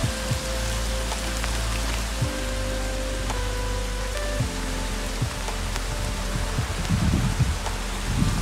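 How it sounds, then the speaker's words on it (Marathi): Heavy rain pours steadily in a Konkan village, a dense, even hiss of drops close by, with faint tonal hums underneath and a rougher patter of splashes swelling near the end. "मस्त पाऊस आलाय जोरदार"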